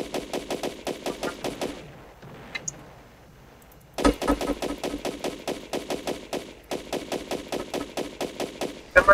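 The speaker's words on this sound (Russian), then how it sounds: "Куда ты там в воду выстрелил?" Video game gunfire crackles in rapid automatic bursts, stops for about two seconds, then resumes with loud, evenly spaced shots.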